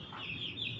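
A turkey gives a single short cluck, faint and brief, with no other sound around it.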